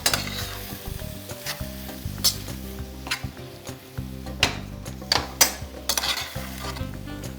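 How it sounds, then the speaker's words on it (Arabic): Chicken breast frying in a pan with parsley and onion, a steady sizzle under repeated scraping and stirring strokes, with occasional sharp clinks of a utensil against the pan, close and fairly loud. "نقلوا داك الصدر تاعنا تاع الدجاج غايه بالمعدنوس والبصل"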